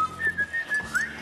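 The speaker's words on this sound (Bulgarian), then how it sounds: "Аз ще го свиркам така." A person whistles a short, bright melodic phrase of several sustained notes, close and clear with no talking.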